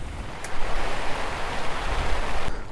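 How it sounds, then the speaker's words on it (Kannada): Wind and rain set in during a monsoon ride near Jog Falls, heard as a steady broadband rush of rain and gusting wind that stays loud and even throughout, with no talk. "ಗಾಳಿ ಮಳೆ ಸ್ಟಾರ್ಟ್ ಆಗೋಯ್ತು ಗುರು"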